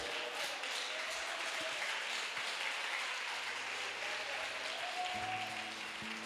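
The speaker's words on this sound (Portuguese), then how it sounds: "Aplauda Jesus." A church congregation claps continuously, a steady wash of many hands applauding together at moderate volume without any pause.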